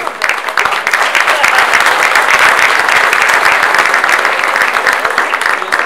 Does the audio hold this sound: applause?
yes